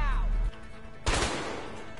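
A single loud gunshot cracks out midway in the A Way Out video game's hospital scene, preceded by a low rumble and followed by a decaying reverberant tail.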